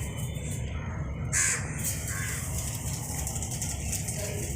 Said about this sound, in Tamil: எத்தனை காக்கா வருமா?